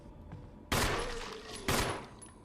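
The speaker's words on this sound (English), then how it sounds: "This is then paired with the excellent weapon sound design, as guns are punchy to use" Two sharp, heavy gunshot bursts from the Resident Evil remake video game ring out about a second apart, each one decaying with a ragged tail over a low background hum.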